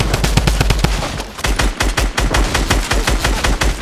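Rapid automatic gunfire in a Fortnite match, loud and close, with bursts of sharp repeated shots in quick rhythm, a brief pause, then more sustained volleys over the few seconds.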